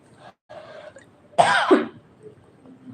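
A single harsh cough bursts out close to the microphone after some soft murmuring, then fades into quiet.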